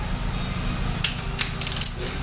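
A ratchet tightens a fuel line bolt on a 1985 Toyota Celica GTS with a 22RE engine, a few short metallic clicks close by over a low steady background hum.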